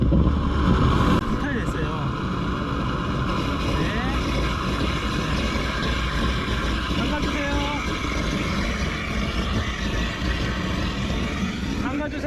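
A groundwater pump motor runs continuously at a well site, a loud, steady mechanical hum and rumble that never stops, with a brief louder burst at the start and people talking over it.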